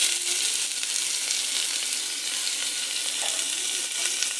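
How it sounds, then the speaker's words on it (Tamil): Onions sizzling in hot oil in a cooker over whole spices for a Tamil chicken kulambu, a steady, close, even crackle with no talk. "இதில் இப்போ வெங்காயம் ஆட் பண்ணிக்கலாம்."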